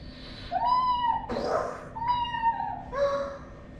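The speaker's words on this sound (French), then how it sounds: "Le chat arrive." A small kitten meows three times close by, clear drawn-out cries separated by brief gaps, with a soft rustling noise between the first two.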